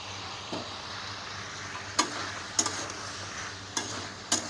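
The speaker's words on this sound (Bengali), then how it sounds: "এটাও একটু নাড়িয়ে নিচ্ছি" Potatoes and peas stirred in a frying pan for a vegetarian navratan korma. The pan sizzles steadily while a spatula scrapes and clicks against the metal in a few sharp, close taps.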